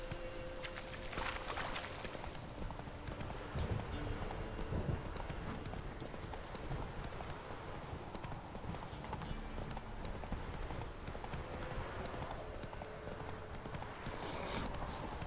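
Horse hooves clop steadily at a gallop through the whole stretch in The Witcher 3 video game, a continuous rhythmic pounding over ambient game sound, with a brief whinny early on.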